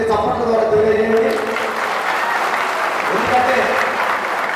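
Audience applause at a public gathering with a singer, steady clapping from a crowd heard together with a voice speaking over it throughout.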